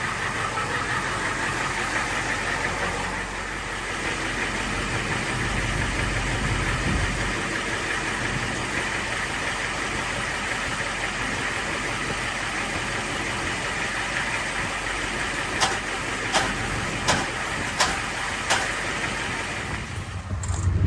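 A Dodge Ram 2500 third-generation truck with an IDI diesel engine runs loudly and steadily close by, a constant rough drone with a handful of sharp ticks near the end and no one talking.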